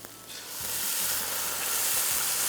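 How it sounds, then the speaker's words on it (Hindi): Chicken stock is added to tomato paste in a hot pan while cooking Balochi dishes. After a soft start, a loud, steady sizzle and hiss swells up and holds, close by, with no voices. "साथ में इसमें हम चिकन की यखनी शामिल कर रहे हैं।"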